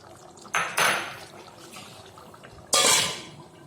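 Two short, clattering scrapes of a utensil stirring fried fish heads in a metal pot, close by, with quiet pauses around them.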